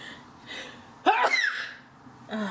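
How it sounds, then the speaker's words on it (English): A single sharp sneeze bursts out close to the microphone, preceded by a quick inhale and followed by quiet breathing. "I sneezed over to the side"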